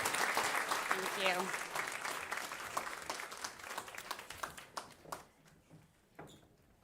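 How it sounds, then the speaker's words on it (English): Audience applauding panelists at a regenerative agriculture event: moderately loud clapping that thins into scattered individual claps and dies out, while a voice speaks briefly early on. "Please give these panelists a round of applause."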